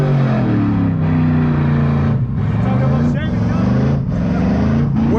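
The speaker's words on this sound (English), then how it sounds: "look at the Mustang you're talking about pulling up" A Ford Mustang pulls up with a loud, throaty engine rumble whose pitch rises and falls steadily throughout, close by and dominating the scene.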